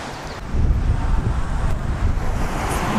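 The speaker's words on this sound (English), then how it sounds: "It's a little windy." Strong wind roars and buffets the microphone steadily, a low rushing noise with gusts and no one speaking.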